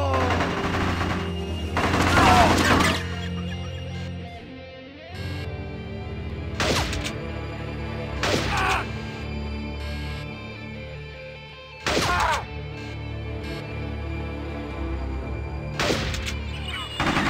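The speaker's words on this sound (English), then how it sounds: "Trying to shoot me now." Enemy gunfire in the Bad Boys: Miami Takedown shooting game, with bursts of loud automatic fire and several sharp heavy blasts spaced across the stretch over a constant low game rumble.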